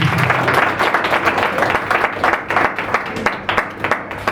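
Church congregation at a Sunday meeting clapping together, loud, fairly rhythmic hand claps repeating steadily throughout, close and full.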